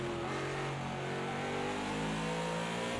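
A racing car engine in a sim racing game on a flying lap at the Nürburgring climbs steadily in pitch as it accelerates, loud and continuous throughout.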